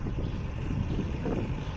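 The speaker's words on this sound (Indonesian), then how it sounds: "Angin cukup deras." Strong wind buffets the microphone while travelling along a village road, a loud, continuous low rumbling roar that fills the whole stretch with no speech.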